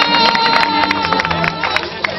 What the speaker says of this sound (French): Applaudissements pour le bisou